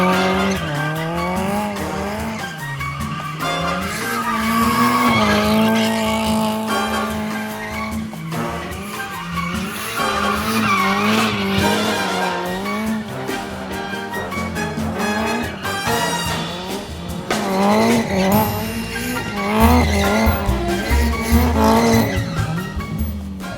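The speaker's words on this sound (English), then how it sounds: "a little bit of drift footage to end the video from the race car" A Subaru STI race car drifts with long, loud tire squeals and wavering engine revs, continuous and close for the whole stretch with no talking.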